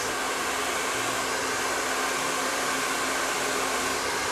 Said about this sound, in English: Make sure your blow dryer is on heat and high